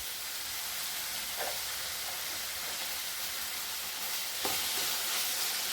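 Curry leaves tossed into sizzling onions in a pan for ulli theeyal, a constant hissing fry with a couple of sharper crackling bursts as the leaves hit the hot oil.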